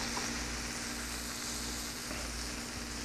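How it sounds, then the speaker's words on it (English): Filet mignon searing in a hot pan, a steady, even sizzle that holds at moderate loudness without breaks and with no one talking. "we're searing this off"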